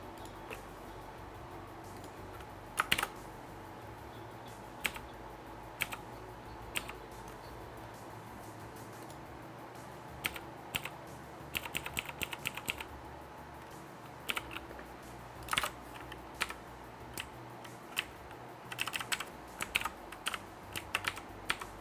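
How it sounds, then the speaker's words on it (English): Typing on a computer keyboard while working through a coding problem: scattered, faint key clicks in uneven bursts and pauses, close to the microphone against a quiet room hum. "Oops, if I hit the right keys."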